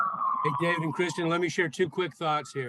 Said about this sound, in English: Excuse the siren as well.